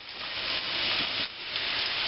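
Onions dropped into hot olive oil in a pan, giving a steady, fairly loud broadband sizzle that holds for about two seconds with one brief dip midway.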